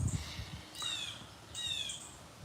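Birds outdoors on a cloudy morning after rain, giving bright chirps and squawks in two separate bursts over soft background noise, fairly close and moderately loud, with no talking.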